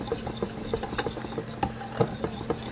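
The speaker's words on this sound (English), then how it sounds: "So we're going to mix it until it's kind of smooth." Cornbread batter being stirred in a bowl, a quick run of soft rhythmic taps and scrapes of a spoon against the bowl, close and fairly quiet with no talk.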